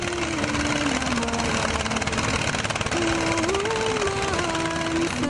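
A locally made gold-mining dredging boat on a river, its engine chugging in a fast even tu-tu-tu rhythm with a steady drone and slight pitch shifts, heard alone.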